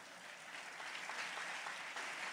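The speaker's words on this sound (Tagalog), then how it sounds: "Gusto niyo pumalakpak?" A church congregation claps together during a preaching service, a brief, even patter of applause from many hands, fairly soft and distant with no voices over it.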